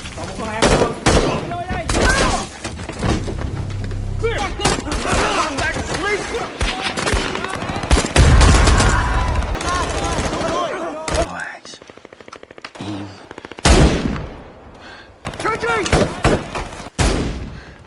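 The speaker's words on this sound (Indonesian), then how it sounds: "menyerang dan melepaskan tembakan dari jarak jauh" Bursts of rapid automatic gunfire and heavy single shots crack repeatedly, loud and close, with short silences between volleys and a voice talking over parts.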